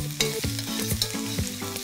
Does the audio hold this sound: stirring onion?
yes